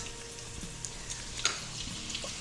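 Butter melting into rendered bacon fat in a pot, a soft steady sizzle with faint crackles and one brief louder pop, at close range with no talking.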